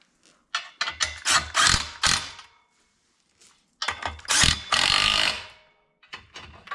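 A ratchet torques down bolts on an 8.1L engine being swapped into a 1988–98 GMT400 truck, in two loud bursts of rapid, close clicking separated by a short pause, with a few lighter clicks at the end.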